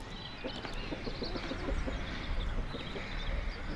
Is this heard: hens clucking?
yes